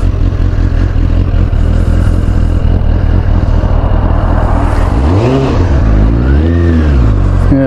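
A restored Suzuki GSX600F motorcycle pulls away on the road, a loud close engine drone that rises in pitch through a couple of rev sweeps as it accelerates off.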